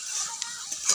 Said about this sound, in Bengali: আলু ভেজে নিচ্ছি বড় রান্না করার জন্য